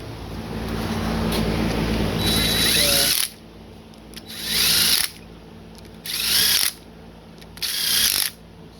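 A power ratchet or drill runs down small 10 mm bolts on a used junkyard LS engine, with four short whirring bursts separated by pauses, loud and close.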